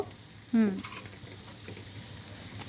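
Chopped onions frying in a pan while being stirred, a soft sizzle with faint scraping, and a voice briefly heard over it.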